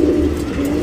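Patta pigeons coo close by, a steady low throaty murmur running through the whole moment with faint background noise and no voices.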